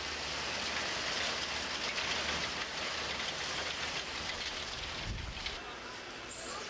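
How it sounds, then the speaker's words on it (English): A rain machine used as a sound effect on a Paris street set gives a constant hiss of falling rain on cobblestones, steady and fairly loud throughout, with a brief low thump near the end. "cut the rain machine while you're at it"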